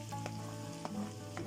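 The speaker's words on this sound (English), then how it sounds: "now we will start frying some more onions" Onions fry in oil for a mutton curry, a steady close sizzle with a few light stirring clicks and a faint underlying hum, with no talking.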